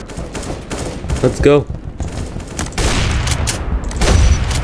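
Gunfire in a Roblox shooter game, bursts of shots crackling loudly through the clip with a brief rising electronic tone in the middle, while a voice speaks briefly over the action.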